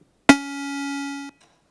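Unfiltered square wave synthesizer tone, a single steady buzzy note with bright, harmonically rich overtones, held for about one second with a sharp onset and abrupt stop.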